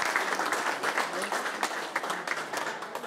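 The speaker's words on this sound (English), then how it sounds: "everyone, give him a round of applause." Guests at an 80th birthday celebration applaud Mr. Rangi Kōtuku, a lively round of many hands clapping with sharp individual claps over the crowd, while voices carry faintly beneath.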